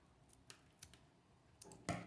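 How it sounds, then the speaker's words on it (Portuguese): Scissors snip ribbon for a florist's ball bow, a few quiet separate clicks and then a firmer final cut near the end. "Eu inclino mais a tesoura, busco o centro"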